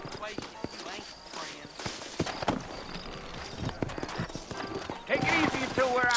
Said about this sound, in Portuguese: Monte seu cavalo, beleza.